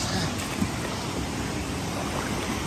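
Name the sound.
waterfall and flowing water at Lintungan Waterfalls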